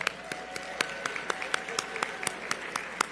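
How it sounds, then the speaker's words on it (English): Sparse applause from a breakfast audience at a Dr. Martin Luther King Jr. event as a choir enters, with a few distinct hand claps in a loose, even rhythm over a low room murmur. "Just give them a round of applause."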